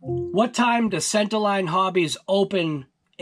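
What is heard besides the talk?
No everyday noise stands out behind the speech.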